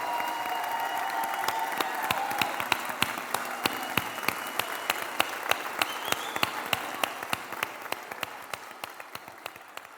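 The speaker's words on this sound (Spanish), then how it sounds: "con esta estampa y con estos aplausos despedimos este acto" An audience claps at the close of an event, a steady rhythmic applause in unison, loud and sharply accented, carrying on for the full stretch over a crowd murmur.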